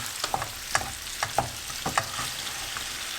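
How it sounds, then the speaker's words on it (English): An onion and fenugreek seed curry gets stirred in a pan with a utensil, making several distinct scraping clacks at an uneven pace over a soft continuous sizzle. The sound is close, and nobody speaks. "Give it a good stir"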